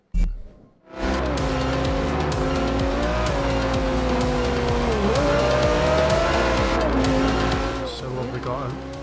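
A McLaren P1 racing in Forza Horizon 2, its engine note loud and sustained, rising and dipping with gear changes, mixed with squealing tires and the sounds of other race cars.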